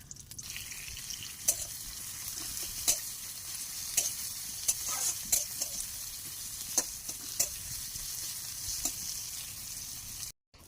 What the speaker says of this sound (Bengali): প্রথমে আমি কড়াইতে তেল দিয়ে দিলাম, তারপর দিয়ে দেব পেঁয়াজ কুচি,